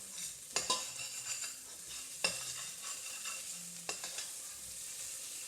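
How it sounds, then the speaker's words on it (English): Finely chopped, blended onions sizzle in a pan while a spoon stirs them, with a steady close frying hiss broken by a few sharp scraping clacks of utensil against pan; no talking. "So what we want to do is keep mixing."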